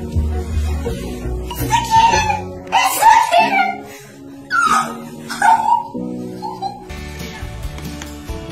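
A puppy whimpers and yips in short bursts, with several high whines and small barks spread across the clip, mixed with excited talk and music in the room.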